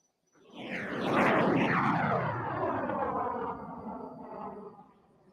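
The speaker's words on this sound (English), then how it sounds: "the Typhoon has the airspace, and we're getting ready to turn it up over Kauwela" Eurofighter Typhoon jet starting its display at the Kauwela airshow: a loud roaring jet pass that swells quickly, holds a sweeping rumble with shifting tones as it moves, then fades away.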